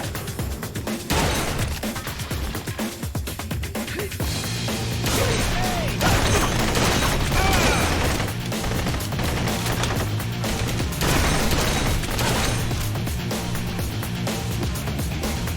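Shotgun blasts in the light-gun shooter Blue Estate, loud repeated shots and crashing impacts amid busy game action and music, without speech.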